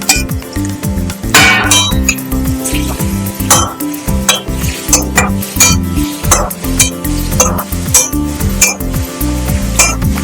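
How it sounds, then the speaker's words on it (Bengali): Set pieces of egg fry in a pan for egg hakka, with a steady loud sizzle under busy, rhythmic spatula clinks and scrapes against the metal. "এই জমাট বাঁধা ডিমের অংশটা আমি এর মধ্যে দিয়ে আবার ভালো করে ভেজে নেব।"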